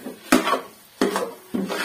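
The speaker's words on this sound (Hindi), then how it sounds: "देखें चम्मच मुसलसल चलाते रहना" A spoon stirs jaggery and semolina halwa in a pan, making three distinct scraping, knocking strokes against the metal, close and evenly spaced with quiet gaps between.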